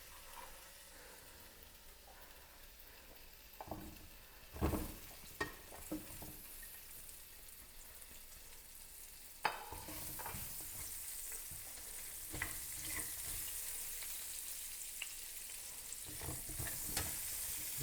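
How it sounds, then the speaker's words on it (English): Vegetables are seared in a hot pan for boeuf bourguignon, giving a continuous fine sizzle that swells louder partway through. Sharp clatters and scrapes of stirring and handling mark the sizzle here and there. "sear the vegetables"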